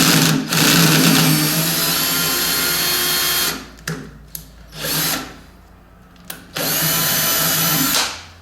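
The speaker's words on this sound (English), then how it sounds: "I've got out my little M5 tap now, and I'll run that tap in there, and I'll just put it on the screw setting here" A drill on its clutched screw setting drives an M5 tap into a metal part for a milling machine oil skimmer. The motor whirs loudly in a long run, then in several short bursts with quiet gaps.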